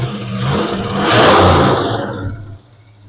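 1977 El Camino engine revving after sitting ten years, a loud close rev that swells to a peak and falls back toward idle, with no talking.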